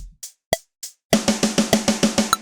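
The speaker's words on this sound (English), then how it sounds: "That's how you get 16th notes, and it sounds like this." A drum pattern plays a few sparse hits, then a steady run of rapid, evenly spaced sixteenth-note beats, crisp and close.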